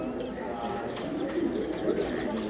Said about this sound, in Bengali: এটা হলো উইলি লাইনের কবুতর